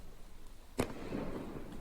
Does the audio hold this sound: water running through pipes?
no